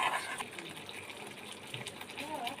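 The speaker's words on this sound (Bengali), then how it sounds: "জল দিয়ে দিলাম" Water poured into a pan of paneer soya kofta curry, a soft continuous gush that is louder at the start and then settles into a steadier trickle, with talk nearby.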